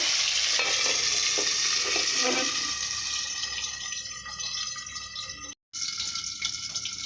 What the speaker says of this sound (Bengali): এইভাবে কিছুক্ষণের জন্য ভেজে নেব ছেড়ে ঢাকনা দিয়ে ভেজে নেব